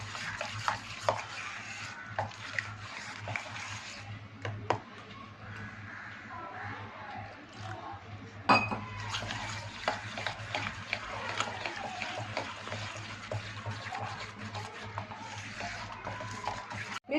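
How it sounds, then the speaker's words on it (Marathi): Chili paste frying and being stirred in a pan while making crispy chicken, with a steady soft sizzle under repeated scraping and stirring strokes, a few sharper clinks of utensil on pan, no talking. "मिरची पेस्ट टाकते, हे बघा"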